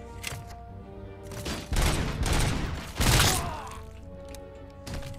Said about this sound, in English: Finally some shooting.